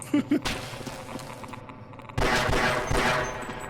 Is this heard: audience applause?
no